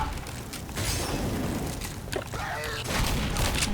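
A dense, rumbling burst of gunfire and blasts in Left 4 Dead, sustained and loud, with crackling debris and metallic clatter throughout.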